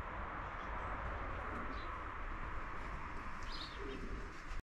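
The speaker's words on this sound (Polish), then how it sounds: "No i mamy już pierwszego gołębia." Young racing pigeons returning to the loft after a 180 km race from Parchim, soft cooing and occasional chirps over a dense, steady outdoor background hum, fairly faint and continuous.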